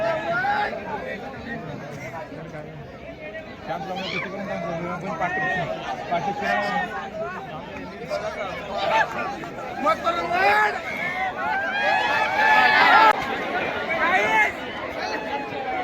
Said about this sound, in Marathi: खतरनाक खतरनाक गर्दी